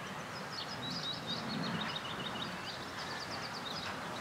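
Small birds chirp and twitter in quick, repeated bursts, moderately distant, over a soft, constant low rumble of background noise.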